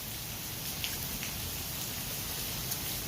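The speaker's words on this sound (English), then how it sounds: "And it's raining" Steady rain falls outside onto a front yard, a continuous hiss of drops with faint scattered patters, even and unbroken throughout with no voices.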